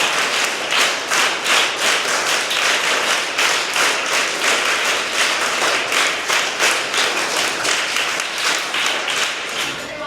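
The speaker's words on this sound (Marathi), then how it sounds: "आपल्या नेहमीच्या टाळ्या वाजून अभिनंदन करायचं आहे" Village school students clap in applause for their teachers, giving a dense, continuous patter of many hands that holds steady for about ten seconds without talk.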